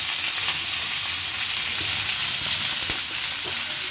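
Cut broad beans and potatoes dropped into a pan of browned onion and garlic, frying with a loud, continuous sizzle and occasional stirring clicks, close up and with no talk.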